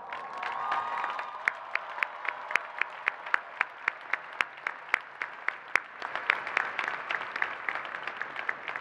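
A commencement audience applauds the faculty with a broad wash of clapping and some cheering, while a few sharp, evenly spaced claps ring out nearby above the crowd throughout.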